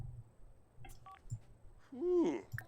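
A phone being dialed in the life-simulation game The Sims 4 gives a few soft beeps and then a brighter tonal burst, low and faint under light background sound.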